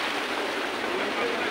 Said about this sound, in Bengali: বাবা, এই ঢেউ আমাকে ফেলে দেবে।